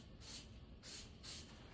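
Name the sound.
spraying tire lubricant inside a dirt bike tire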